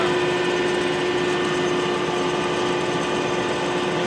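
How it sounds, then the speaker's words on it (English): A tractor with a CAT engine runs hard under roughly 75 horsepower of PTO load, giving a loud, unbroken drone with a steady whine throughout and no talk. "right now, the tractor's running hard"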